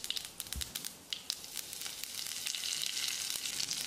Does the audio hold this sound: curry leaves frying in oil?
yes